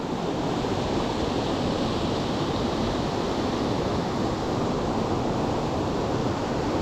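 Water rushes constantly at Hethpool Linn waterfall in a gorge, a dense, loud, unbroken roar with no talking over it.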